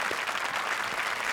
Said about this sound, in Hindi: जोरदार तालियां हमारे शरारती जजेस के लिए।